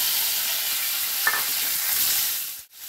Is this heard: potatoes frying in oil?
yes